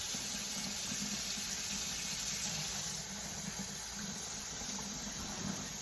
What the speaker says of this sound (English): We're just going to keep on straining our rice.